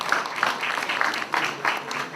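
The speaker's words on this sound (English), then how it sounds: "Give yourselves a round of applause." A gathered audience gives a short round of applause, the clapping moderately loud and slightly uneven in bursts across two seconds.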